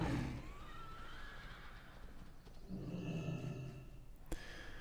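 A horse in World of Warcraft lets out a long, wavering whinny over a steady bed of game ambience, followed by rumbling hoofbeat-like noise and a brief sharp click near the end.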